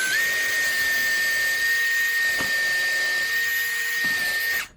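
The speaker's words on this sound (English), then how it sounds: "Pre-drilling through the leg," Power drill pre-drilling through the leg of a worn wicker love seat, a steady high whine held for several seconds before winding down, alone and close.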